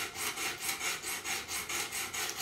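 Buck 110 knife blade stroked on a Work Sharp Pro Precision Adjust sharpener, about ten even, rhythmic rasping passes close up, alone and regular.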